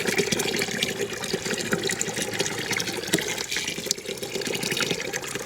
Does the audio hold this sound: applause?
no